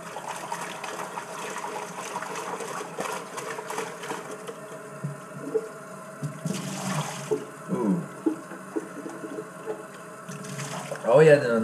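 Dishes are rinsed under a running tap in a home kitchen sink without detergent. Water flows and splashes steadily, with clatter and bursts as items are turned over, and a voice is heard at times.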